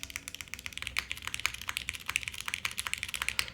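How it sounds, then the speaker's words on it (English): Rapid keystrokes on a mechanical keyboard during a custom keyboard build, a steady run of sharp, close clicks and clacks typed alone without talking. "Either it's a switch problem, or it's a stab problem causing some sort of weird, odd sound."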